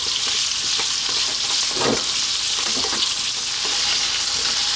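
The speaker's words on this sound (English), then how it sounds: "So let's fry these potatoes around." Potatoes fry over medium heat in a pan, making a dense, continuous sizzle up close, with occasional stirring scrapes and clinks and no voices.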